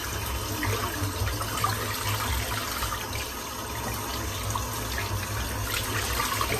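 Water runs steadily from a tap while soap is rinsed out of a shaving brush, a continuous close splashing rush with faint irregular spatters and no talk.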